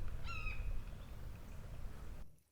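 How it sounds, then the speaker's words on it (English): A red-shouldered hawk gives a single short, high descending call early on, faint and somewhat distant over a low steady outdoor rumble, then nothing further. "That was a red-shouldered hawk."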